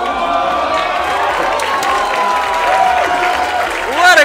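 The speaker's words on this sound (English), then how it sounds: "What a crowd! Wow." Crowd at the Classic Tetris World Championship cheering and applauding, a dense, loud wash of clapping and shouts with individual whoops rising through it, swelling near the end.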